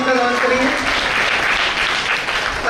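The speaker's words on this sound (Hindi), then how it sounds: "एक बार जोरदार तालियों का धन्यवाद करेंगे।" Loud, dense applause fills a crowded Bhagwat Saptah religious gathering, a continuous close wash of clapping that opens under a brief voice and holds strong throughout.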